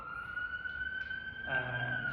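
A steady, high-pitched siren wail holds one tone throughout, moderately loud, with a brief rumble of added noise partway through.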